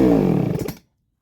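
Baumr-AG SX92 chainsaw engine with a carburettor fault briefly firing: a loud, near, rough roar that lasts under a second, then cuts out into silence.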